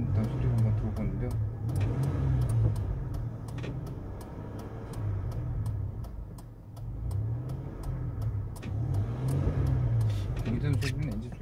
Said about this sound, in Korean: 공회전 소리는 엔진 소리가 이렇게 좋은 것 같진 않네요.